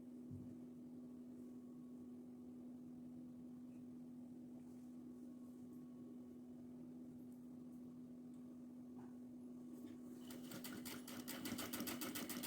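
An electric sewing machine stitches a cotton kurti with side pockets, a steady close-up mechanical hum and rapid needle chatter running continuously, growing louder and busier near the end, with no voices.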